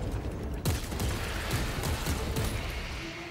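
Grenade launcher fire in the Warhammer 40K: Space Marine 2 video game, a string of loud booming blasts at steady intervals over a dense wash of battle noise, with no talk over it.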